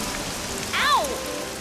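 Steady cartoon rain patters throughout, a soft continuous hiss of drops, with a brief bright whistling chirp sweeping down near the middle.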